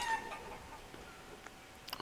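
Chickens in the Forest Village game give a few soft, short clucks, faint and sparse against a quiet background, and no one speaks.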